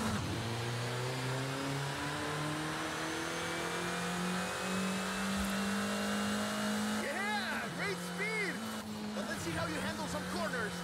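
VUHL 05RR Mexican-built track car accelerating hard, its engine note climbing steadily through the gears, then rising and falling in quick revving swells; loud and close, with a voice talking over it.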